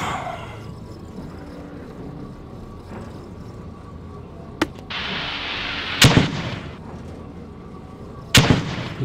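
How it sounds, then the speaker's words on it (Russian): Grenade launcher rounds burst nearby in the ArmA 2 military shooter: three sharp, loud blasts spaced a couple of seconds apart over a low, rumbling battlefield background. "Тут ГПшки как-то совсем рядом летают."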